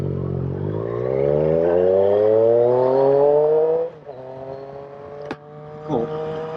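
Motorbike engine revving up through a gear on a ride home from Wolverhampton, rising in pitch for several seconds before dropping at a shift, followed by quieter running and a short blip, close and loud.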